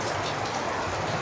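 Heavy rain pours down in a cemetery during a storm, a steady close hiss of drops beating on surfaces that continues without a break and with no voices.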